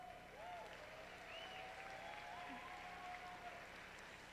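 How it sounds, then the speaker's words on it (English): A crowd at the 2019 Midland District robotics alliance selection applauds in a large arena, a faint, steady wash of clapping with tonal music or whistles sliding over it and distant voices beneath. "Can we give them a round of applause?"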